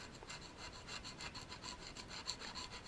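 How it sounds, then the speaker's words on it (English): A metal blade scrapes an old gasket off a bike's engine surface in light, repeated strokes, producing a steady close-up rasping texture with soft rhythmic pulses and no talking. "you can see it's just peeling the gasket off"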